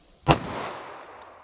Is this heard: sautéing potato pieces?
no